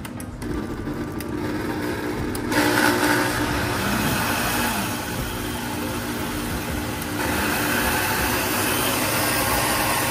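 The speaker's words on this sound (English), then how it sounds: "How long do you leave that blending for?" A countertop blender runs steadily, whirring loudly as Venezuelan quesillo batter is mixed in a home kitchen, the motor pitch rising briefly before settling into an even, continuous drone with no talk over it.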